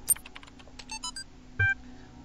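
Keys clatter on a computer terminal in the puzzle game The Talos Principle, a quick burst of close, irregular taps followed by a soft thud and a brief electronic tone, with no one talking.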